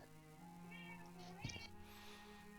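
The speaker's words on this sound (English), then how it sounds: "I heard a cat" A cat meows once or twice faintly in the background of a quiet indoor room, a short rising wail over low steady hum with a brief thump.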